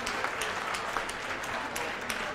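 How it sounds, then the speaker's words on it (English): Crowd applause for a boxer at an exhibition boxing match in Eastbourne, brisk continuous clapping with a few sharper claps standing out, steady and fairly close. "give him a big round of applause"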